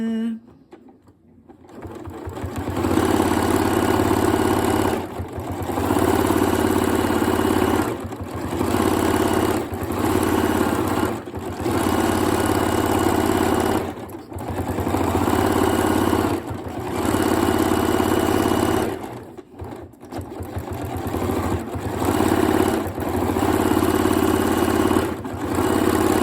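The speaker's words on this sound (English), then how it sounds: "let me show you me sewing out some patterns so you can see how this works in practice" A Janome Horizon Memory Craft 9480 QC sewing machine stitches out decorative patterns, its motor whirring steadily and loudly in long runs with brief pauses between them.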